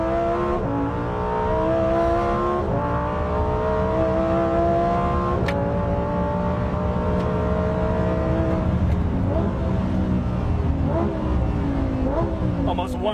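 A sports car engine revs loudly and continuously while driving at speed, its pitch climbing and dropping through repeated gear changes, with a voice talking over it.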